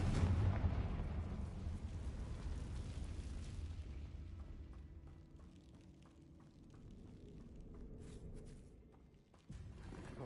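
A Confringo spell explosion in the Hogwarts Legacy video game: a heavy, loud boom at the start that rumbles and slowly fades over several seconds, followed by quieter scattered clicks and a second low thud near the end.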